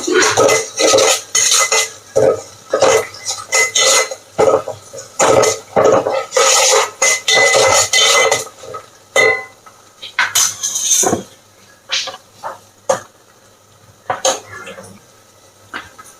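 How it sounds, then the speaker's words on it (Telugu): Turmeric fried and stirred in a little oil in a home-kitchen pan, with repeated scraping and clinking of a spoon against metal in irregular bursts, fairly close, alongside other kitchen clatter. "పసుపు వాసన పోయేంత వరకు దీన్ని వేయించుకోవాలి కొంచెము ఆయిల్లో మగ్గేంత వరకు"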